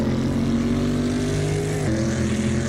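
Engine and exhaust of an American muscle car in the racing game Assetto Corsa, a steady loud droning hum with one downshift in pitch partway through.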